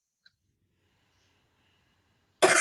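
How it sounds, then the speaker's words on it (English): A single loud cough bursts out at the end of a quiet pause during a breathing exercise, close to the microphone. A faint click comes earlier in the near silence. "This time we'll breathe and cough."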